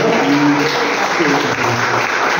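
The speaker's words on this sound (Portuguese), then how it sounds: "Quem pode dar uma salva de palmas ao Senhor Jesus?" A church congregation applauds in a dense, steady wash of clapping, loud and close, with voices faintly under it.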